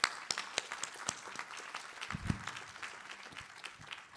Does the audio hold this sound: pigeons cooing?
no